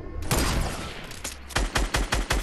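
Gunfire in the video game Fortnite, a dense blast followed by a run of five or six sharp, evenly spaced shots, loud and close.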